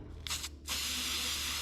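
An aerosol can of spray paint coats an exhaust manifold flange to mark a gasket template on a mini bike chopper, a short puff then a steady close hiss held to the end over faint background hum.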